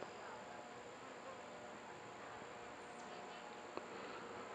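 Honeybees fed on sugar syrup buzzing around a bird bath outdoors, a steady faint drone of many insects with no voices.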